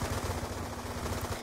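Rapid automatic gunfire from the video game Black Ops 2 rattles continuously and densely, loud and steady throughout with no pauses, with no talking over it.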